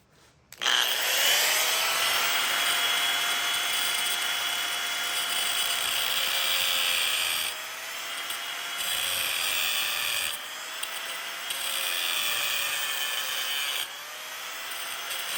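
An angle grinder cuts a slot in a shop on a rainy day, a loud close high-pitched whine held for long stretches with brief dips and pitch wobbles as the cut proceeds, no talking.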